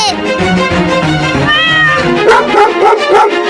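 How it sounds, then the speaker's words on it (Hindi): Cartoon dogs bark and yip loudly in rapid, overlapping bursts, with whimpering, whiny tones mixed in among the close, energetic barking. "अरे, ये तो पागल कुत्ते हैं।"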